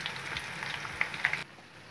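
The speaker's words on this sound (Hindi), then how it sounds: "Bizim tavuk tampuralar kızarttı." Chicken tempura frying in hot oil, a soft steady crackling sizzle with small pops, close and fairly quiet, cutting off abruptly near the end.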